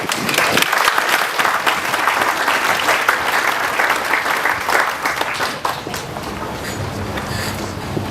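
Sustained audience applause at a 2022 Memorial Day ceremony for a young speaker, a dense crowd of clapping hands that holds steady and thins slightly toward the end.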